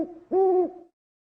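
An owl in an animated children's story gives a short two-part hoot, a low note followed by a longer, louder one, clear and close, then silence.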